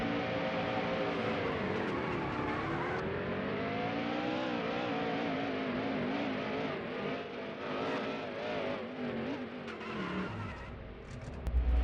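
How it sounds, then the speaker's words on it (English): A 200-mph stock car in the NASCAR Heat Evolution game flips and crashes down the straightaway at Talladega Superspeedway: a loud, continuous engine roar with wavering pitch, tire scrubbing and a sharp impact at the end. "Without turning into too much of Ken Squire, that's what it looks like to flip over in a 200-mile-an-hour stock car, flipping and crashing all down the straightaway at Talladega Superspeedway"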